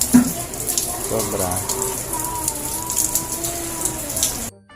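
Heavy rain falling during a typhoon gives a steady, dense wash of noise that continues throughout, with a voice speaking briefly over it.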